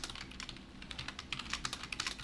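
Rapid clicking of computer keyboard keys being pressed, Shift held with number keys, a quick close-up run of light taps with no talk.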